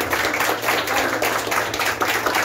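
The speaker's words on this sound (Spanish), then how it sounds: "Fuerte el aplauso para él, por favor." Audience at a children's birthday party clapping with a clown entertainer, a steady dense patter of many hands held at an even level for the whole stretch.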